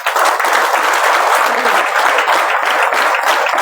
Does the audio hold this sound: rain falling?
no